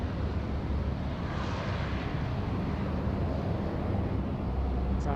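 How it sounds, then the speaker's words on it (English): Fly Pelican Jetstream 32 turboprop on runway 34 left at Sydney Airport, a steady broadband engine roar holding at even loudness throughout, with no voices. "The beautiful Jetstream 32s, operated by Fly Pelican, the only type in their fleet."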